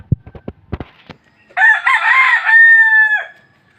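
A few soft clucks and pecking taps come first, then a loud, close rooster crow rings out alone for nearly two seconds.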